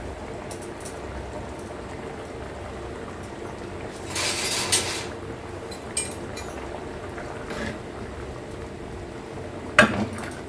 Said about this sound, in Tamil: இப்போது நல்லா கொதிச்சு வருது